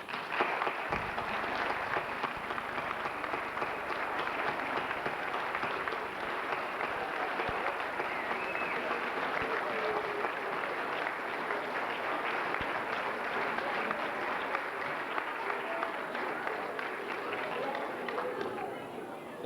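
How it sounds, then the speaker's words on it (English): Audience applause at a 2000 D.A.R.E. school graduation ceremony, a long sustained wash of many hands clapping at moderate volume for nearly twenty seconds, with faint voices mixed underneath. "Give them a round of applause."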